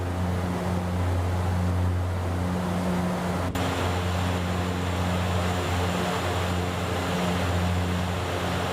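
Steady, loud drone of a Dash 8 Q400 turboprop airliner in a flight simulator, a continuous propeller hum with strong low tones and broadband roar, unbroken throughout, with a single brief click near the middle.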